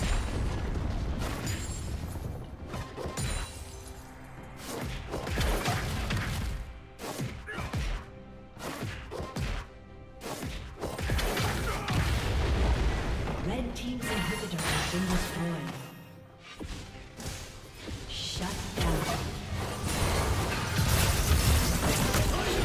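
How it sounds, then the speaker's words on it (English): Explosive crashes and booms as a turret is destroyed in League of Legends, mixed with clashing combat effects and game sounds, loud and busy throughout. "Team's turret has been destroyed."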